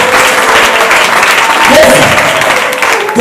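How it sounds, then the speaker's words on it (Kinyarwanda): A church congregation applauds during a worship service, with loud, continuous, dense clapping that fills the room while a voice speaks over it. "Komera Imana amashyi mu izina rya Yesu"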